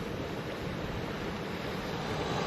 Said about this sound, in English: The breeze is so steady out of the north.